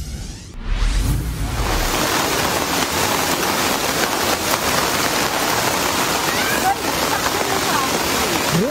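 Heavy typhoon rain from Typhoon Krising in Antique province pours as a loud, continuous broadband wash, steady throughout after a brief low rumble at the start.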